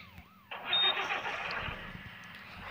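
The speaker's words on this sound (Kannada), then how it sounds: "ಫಸ್ಟು ಇಂಜಿನ್ ಸ್ಟಾರ್ಟ್ ಮಾಡೋಣ ಸರಿನಾ ಗುರು ಕೇಳಿಸ್ಕೊಂತೀರಿ ಇಂಜಿನ್ ಸೌಂಡನ್ನು" A BMTC city bus engine starts up in a modded bus video game: a short crank followed by a sudden jump into a loud, steady running drone, with the rear-mounted silencer sound carrying on alone.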